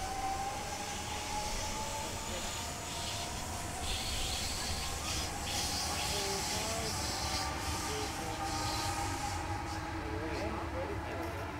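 An M-set electric passenger train pulls out of a platform at Dulwich Hill station in Sydney, giving off a continuous rumble with hiss and rising motor whine.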